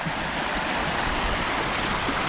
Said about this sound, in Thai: นี่น้ำไหลครับผม